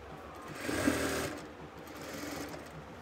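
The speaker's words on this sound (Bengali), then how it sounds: "তারপর দেখেন দুইটাকে ধরে আমরা এইভাবে সেলাই করব।" A sewing machine stitches the seams of a ladies' palazzo pant in a quick, steady whir, rising and falling across a few seconds of continuous running, close and moderately loud with no talking.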